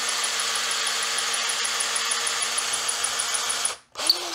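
A lathe cutting the end of a soft wood pen blank during slimline pen turning, a steady close, loud whirring cut that runs continuously before cutting off abruptly near the end.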